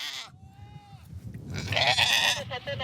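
Goats in the Mongolian Gobi desert, a cashmere herd, give one clear bleat close by, followed by a louder stretch of rough, rustling broadband noise.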